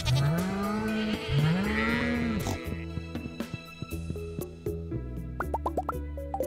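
Cows mooing in the farming video game Stardew Valley: two drawn-out, rising moos open the clip over game music, followed by a scatter of soft plopping game effects.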